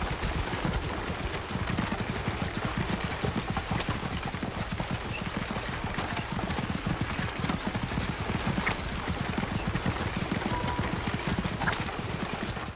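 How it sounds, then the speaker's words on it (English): Hooves of several horses galloping without pause in Assassin's Creed Origins, a dense, steady clip-clop drumming that stays loud and close all the way through, with no talking. "These horses would be exhausted if this was their real life, real trip. They've just been running the whole time."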